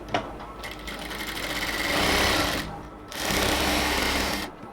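A sewing machine runs close and loud, stitching the folded hem of a salwar pant in two long rattling bursts separated by a brief pause, with no voices.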